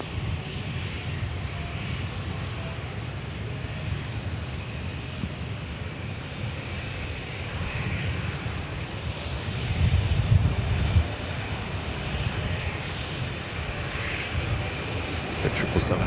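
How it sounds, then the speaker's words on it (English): A Boeing 777 airliner lands at LAX in gusty wind, its engines a steady, fairly distant roar that swells briefly midway, with wind buffeting the microphone throughout. "The 777 hitting the wind just a little bit."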